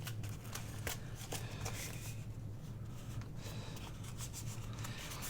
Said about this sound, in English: we're going to go ahead and fold this in half.